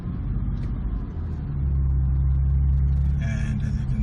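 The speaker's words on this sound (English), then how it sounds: "a little bit of gas, let out the clutch slowly." A Porsche 996 with a manual transmission pulls away from a stop with a little throttle as the clutch is let out slowly, giving a steady low engine rumble that swells slightly, heard close with no talking.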